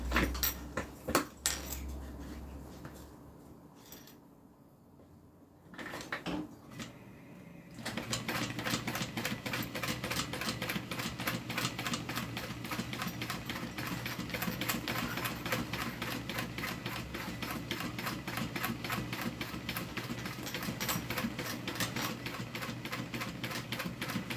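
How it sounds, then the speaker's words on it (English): A sewing machine stitches a zipper around a small wallet, giving a steady, rapid mechanical ticking that runs continuously for most of the stretch after a brief quieter pause near the start. "Alright, make sure that tape's down, and then I'm going to go ahead and sew."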